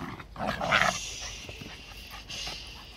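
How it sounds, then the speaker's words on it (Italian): Two puppies play together, giving short whimpers and panting bursts up close, loudest early on and then fading to quieter breathy sounds over about three seconds. "Questa è un'interazione tra cuccioli, è il loro modo di giocare"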